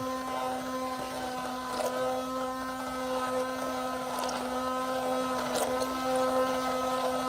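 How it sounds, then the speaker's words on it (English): A hand blender pureeing turkey enchilada sauce, a steady, droning motor whine close by, holding a constant pitch with slight surges as it works through the mixture. "I'm going to go in here, and I'm going to just puree that all together"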